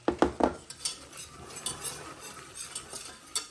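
A whisk works flour into melted butter in a pan for a white roux, with quick metallic clinks at the start followed by softer irregular scraping and light sizzle.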